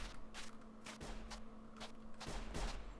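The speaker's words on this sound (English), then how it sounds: "Oh, I hear gunshots." Distant gunfire in the video game Sir, You Are Being Hunted: a series of faint, irregular sharp cracks, about eight or nine shots in three seconds, with no talk over them.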